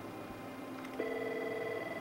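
Avaya IP Office Phone Manager dials and calls a phone: a faint tone blip is followed by a steady ringback tone over a constant background hum, with no talking.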